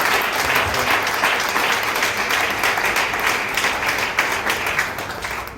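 A large audience at a ceremony bursts into loud, sustained applause in praise of God, dense clapping rolling on steadily for several seconds before easing slightly at the end.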